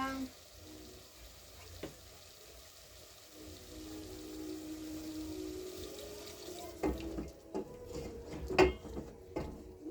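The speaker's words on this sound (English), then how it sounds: "Okay, let me add some water." Water poured into a cooking pot for a rice stew: quiet kitchen background at first, then a louder splashing pour with clinks and knocks of the pot in the final few seconds.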